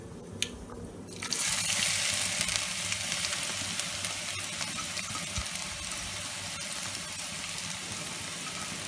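Pumpkin pieces drop into hot oil with star anise and cumin seeds, a sudden burst into a dense, steady crackling sizzle that holds evenly without talk.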